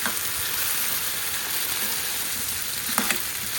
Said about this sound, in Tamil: ஸோ இதை நல்லா மிக்ஸ் பண்ணிவிட்டு இந்த எண்ணெயிலையே வேகணும் மக்களே